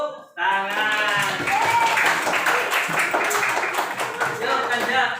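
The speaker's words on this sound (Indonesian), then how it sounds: "Ya, sudah tepuk tangan." A classroom of schoolchildren claps together, a quick burst of many small hands that begins abruptly and stays lively, mixed with children's voices and a teacher speaking.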